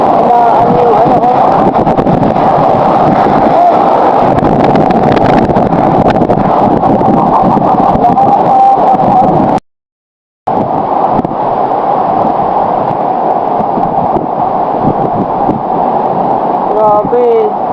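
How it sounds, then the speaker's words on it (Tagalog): Strong gusting wind from a typhoon in Bicol, Philippines roars continuously and loudly, with a brief dropout midway before the rushing resumes, a voice speaking faintly within it. "Bugso ng hangin."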